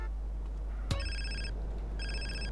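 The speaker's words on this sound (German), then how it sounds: "Das Telefonat abwarten, das wir gleich kriegen." An incoming phone call rings in GTA San Andreas, two bursts of an electronic ringtone following a sharp in-game click, heard over a steady low hum without talking.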